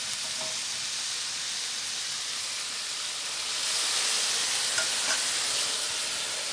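Cauliflower stir-fry hissing in a hot wok after a splash of veal stock is added, a constant bright sizzle that swells louder partway through, with no voices.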